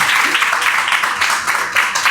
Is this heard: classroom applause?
yes